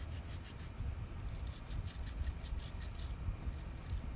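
A dry toothbrush scrapes salt off a crayfish prepared for taxidermy, making a steady, close rubbing rasp with quick repeated strokes throughout and no talk.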